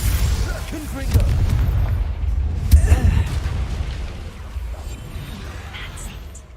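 A Confringo fire spell blasting in the Hogwarts Legacy video game, a heavy booming rumble with a sharp burst near the middle, set among continuous low combat sound effects.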